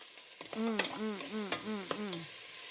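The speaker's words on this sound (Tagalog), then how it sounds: "Oh, gisa tayo ng sibuyas." Onions sizzle faintly in a pan under a run of rhythmic, squeaky scraping strokes, about four quick pulls in a row, close but quiet.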